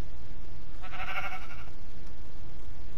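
A single sheep bleat from the video game Minecraft, a short wavering cry lasting under a second, set against a steady ambient background with no talking.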